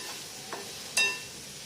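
A spoon scrapes and stirs through a capsicum vegetable dish in a pan over a low flame, two brief scraping strokes over a faint steady sizzle, close by and with no talk.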